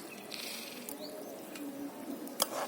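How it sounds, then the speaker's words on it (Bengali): A pan of fish curry with potato and cauliflower simmering, a soft steady bubbling hiss with faint pops and one small clink near the end, quiet and close. "টক করে তো ফুটছে"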